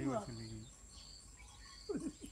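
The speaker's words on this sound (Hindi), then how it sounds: "इतनी चिड़ियों को देख रहे हो" Small birds chirp nearby in short, faint tweets, with a voice talking briefly at the start and a few higher calls near the end.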